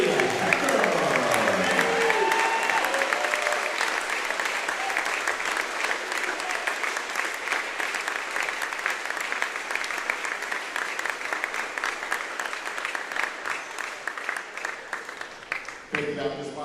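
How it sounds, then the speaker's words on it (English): A crowd at a men's college basketball regional quarterfinal bursts into sustained applause, loud and steady for about fifteen seconds before fading, with a voice heard briefly over it at the start. "join me in a round of applause as we honor Andy Hecker."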